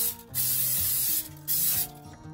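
Cooking spray hisses onto a baking dish in three close, loud bursts, each lasting about half a second to a second with brief pauses between.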